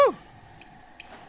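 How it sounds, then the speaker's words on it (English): Faint water drips in the video game Hollow Knight, two soft high drops about half a second apart following a brief sharp sound at the start, set against a quiet ambient hum. "you can even hear the drip of the waters"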